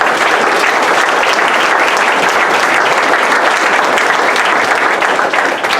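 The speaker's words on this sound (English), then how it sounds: "we'll give a round of applause for that" A crowd claps steadily and loudly for several seconds, a dense continuous wash of applause with no talking.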